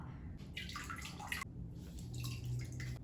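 Cloth being drenched in a bowl of water gives soft, irregular sloshing, dripping and trickling, close and fairly quiet.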